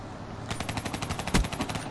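Rapid automatic gunfire from a Call of Duty: Black Ops III team deathmatch, a steady stream of evenly spaced shots that is close and fairly loud, with one heavier impact near the end.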